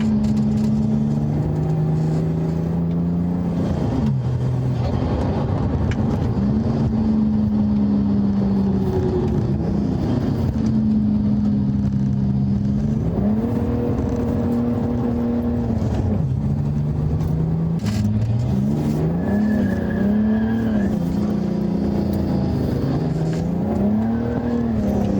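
A race-prepared street car is driven on a test run after a dyno session. Its engine drones loudly and steadily, rising and falling in pitch through repeated revs and gear changes, with no talking.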